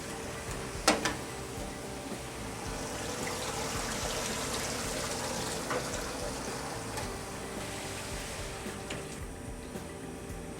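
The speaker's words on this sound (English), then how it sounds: "We turn the water back on." Tap water runs steadily over a photopolymer plate as it is rinsed, making a continuous close hiss and splash, with a light knock near the start.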